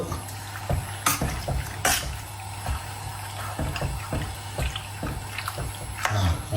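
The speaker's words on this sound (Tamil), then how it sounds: "மஞ்சள் உப்பு போட்டு கொஞ்சம் பிறட்டுறேன்" Cuttlefish simmer in water with turmeric and salt in a pot over a wood fire while a spoon stirs them, giving soft watery churning with occasional scraping knocks against the pot.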